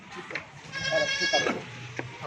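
Goats for sale at a market, bleating loudly and nasally in two or three drawn-out calls close by, with someone talking around them.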